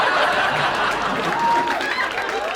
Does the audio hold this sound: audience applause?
yes